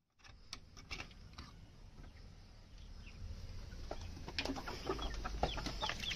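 Chickens let out of their coop in the morning give scattered soft clucks and rustles, faint and fairly close, growing a little busier as they spread out.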